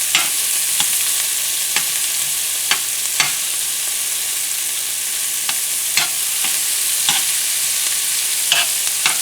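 Garlic frying in a pan with a spoon stirring it, giving a steady sizzle broken by repeated sharp scrapes and clinks of the spoon against the pan, close and without talk.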